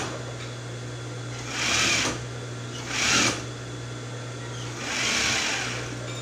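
A sewing machine under repair runs in three short bursts of whirring stitching, each lasting about half a second, over a steady low hum with no talk.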